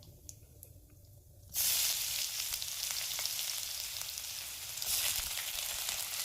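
Chopped garlic and ginger dropped into hot oil, starting with a quiet pause and then bursting into a loud, steady crackling sizzle that keeps going close up, with a fresh surge of spitting near the end.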